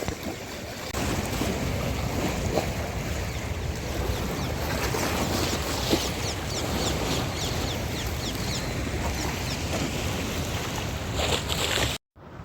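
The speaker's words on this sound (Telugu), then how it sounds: "సముద్రంలో అలలు వస్తాయి కదా సేమ్ అలాగే ఉంది ఇక్కడ కూడా" Continuous wash of Krishna River waves and wind noise outdoors at Vijayawada, steady and fairly loud, ending abruptly in a brief dropout.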